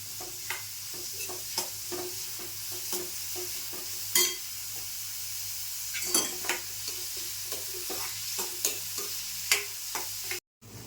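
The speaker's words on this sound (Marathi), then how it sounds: "तर तेल तापलं की आपण कांदा टाकते" Chopped onions fry in hot oil for a prawn masala, a constant hiss broken by many rhythmic scrapes and taps of a spatula stirring the pan, close and steady with no one speaking.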